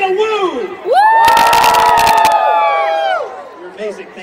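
A baseball crowd at a Reno Aces Fourth of July game shouting a loud, sustained unison woo, with a burst of clapping in the middle and an announcer's voice before and after.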